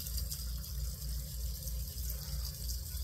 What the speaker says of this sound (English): Now I'm gonna wash out my brush a little.